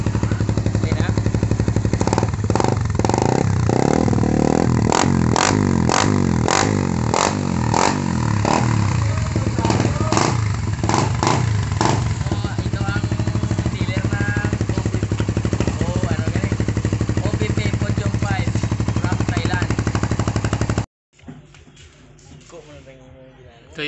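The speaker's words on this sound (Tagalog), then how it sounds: "OPP podium pipe from Thailand" A motorcycle fitted with an OPP podium exhaust pipe from Thailand runs at a parts shop, loud and close, blipping through a series of sharp revs before settling into a steady rumbling idle. Someone talks over the engine.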